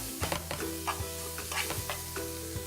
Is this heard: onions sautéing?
yes